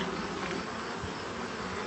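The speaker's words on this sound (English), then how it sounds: "there's tons of bees on it" Dense, steady buzzing of many honey bees crowded on a hive frame in a backyard, close and continuous without pause.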